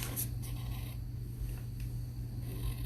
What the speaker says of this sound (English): Let's write a 4.